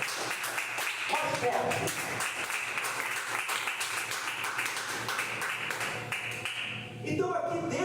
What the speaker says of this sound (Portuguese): Você pode aplaudir esta palavra?